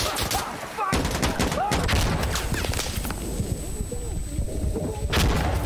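Mortar blasts and gunfire rattle through an Insurgency Sandstorm firefight, with dense bursts of shots and heavy impacts repeating for several seconds and staying loud and close.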